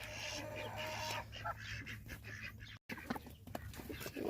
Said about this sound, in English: I have this hen, and I think she's kind of stuck back here